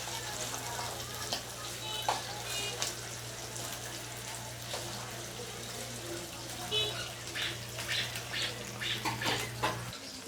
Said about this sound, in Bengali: মাছগুলোকে লবণ হলুদ দিয়ে মেখে এবার আমি একটু হালকা করে ভেজে নেব